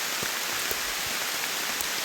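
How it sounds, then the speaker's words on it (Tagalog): Heavy rain falls on a mountain trail, a dense steady hiss of drops with occasional closer splats, loud and continuous with no talking. "Oh, grabe lakas ng ulan guys."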